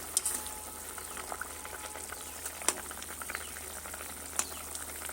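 Potatoes cook in a covered pot, a soft continuous bubbling simmer with occasional sharper ticks and knocks, faint and steady, no voices.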